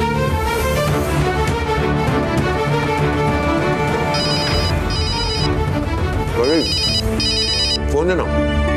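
A phone ringtone plays loudly and repeatedly in a musical, melodic pattern, continuing for several seconds with voices speaking over it.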